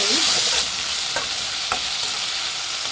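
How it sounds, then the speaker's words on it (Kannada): Chopped tomatoes hitting a pan of cooked capsicum for bisi bele bath, giving a bright continuous sizzle with a few sharp scraping stirs of the spatula, close and steady with no talking. "ಈಗ ಟೊಮೊಟೊ ಹಾಕ್ಕೊಬೇಕು ಫ್ರೆಂಡ್ಸ್. ಟೊಮೊಟೊ ಚೆನ್ನಾಗಿ ಫ್ರೈ ಮಾಡಬೇಕು"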